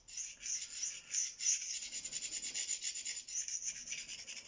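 A Ka-Bar Dozier knife is hand-sharpened on Venev stones in steady, rhythmic strokes, each a bright, close scraping rasp that repeats quickly with no voices.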